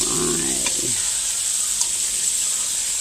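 Chicken steak frying in hot oil in a home kitchen, a steady loud sizzle and hiss filling the clip with a brief stir or turn near the start.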